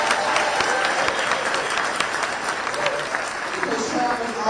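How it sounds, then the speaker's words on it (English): An audience at a political party dinner event gives a sustained round of applause, a steady, fairly distant wash of clapping with voices mixed in. "Y'all give Trav a round of applause."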